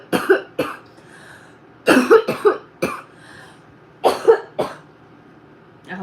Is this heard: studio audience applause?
no